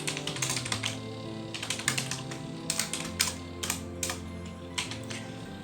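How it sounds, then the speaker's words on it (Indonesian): Rapid computer-keyboard typing while entering C++ code, with dense irregular key clacks in quick bursts throughout, close and clear with no talking. "Lalu berikutnya kita ketik kode ini."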